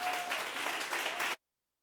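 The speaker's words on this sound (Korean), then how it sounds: "우리 목사님 환영하면서 박수로 맞이하겠습니다." A Sunday church congregation claps to welcome the pastor, a full, even roar of many hands that keeps up for over a second and then cuts off abruptly into silence.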